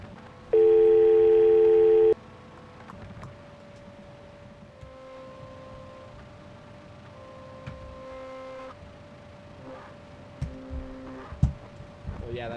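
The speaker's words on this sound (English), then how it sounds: "Wiretapped phone call." A landline dial tone from a wiretapped phone call in a video game drones loud and steady for about a second and a half, then fades into a quieter sustained electronic hum with soft game noises and occasional clicks.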